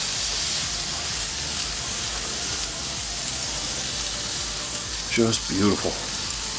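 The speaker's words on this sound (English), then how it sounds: "You can hear that sizzle." Loud, steady sizzling of a wagyu Denver steak searing on a hot cast iron plancha, a continuous bright hiss, with someone speaking briefly near the end.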